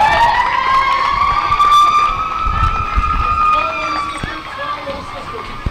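An ambulance siren wails with rising and falling tones, loud and continuous at a girls' JV high school game, fading slightly toward the end as crowd noise murmurs beneath.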